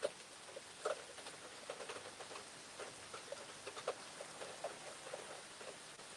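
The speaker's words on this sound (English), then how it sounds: "I love the sound of rain." Faint rain falls outside as a soft, steady patter, with scattered small drips and taps landing irregularly on a surface, quiet and distant, with no voices.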